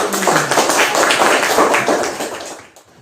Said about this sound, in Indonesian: Oke, tepuk tangan buat teman-teman.